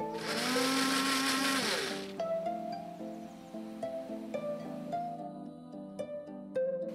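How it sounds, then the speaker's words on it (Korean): A kitchen blender grinds a sauce of sesame seeds, doenjang, vinegar and fruit enzyme, a loud high whirring for about two seconds that winds down, then quieter clinks and rattles. "이렇게 넣은 양념을 갈아줍니다."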